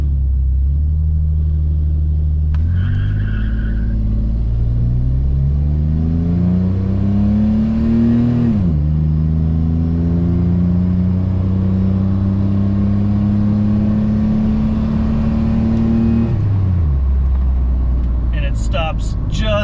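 A Dodge Dakota pickup truck labors as it slowly accelerates, its engine drone climbing steadily in pitch through the gears and staying loud and close throughout.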